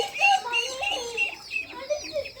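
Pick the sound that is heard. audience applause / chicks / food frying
chicks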